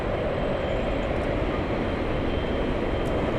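A Japan Airlines Boeing 787 airliner on final approach at LAX gives off a loud, steady broadband jet rumble that holds unbroken throughout, with no speech over it.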